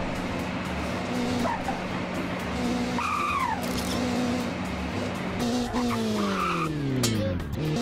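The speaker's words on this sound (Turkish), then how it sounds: "Ferrari'den çıkan sese bak" A Ferrari in a Roblox driving race game gives a steady engine drone while its tires squeal in rising and falling skids, close and moderately loud, with no voices.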